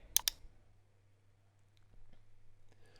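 Two quick computer mouse clicks come up front in a quiet room while editing in video software, followed by a few faint ticks and low background hum.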